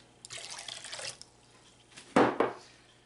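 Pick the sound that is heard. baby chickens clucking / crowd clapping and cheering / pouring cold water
pouring cold water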